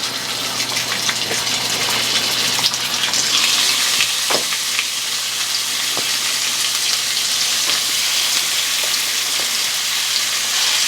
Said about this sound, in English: the pan is already hot, so we can start immediately browning off our lamb